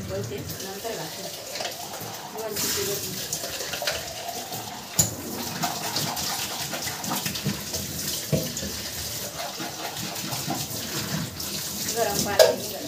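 Water runs steadily from a tap while a container fills, a constant close rushing hiss with a few small knocks, and people talk over it.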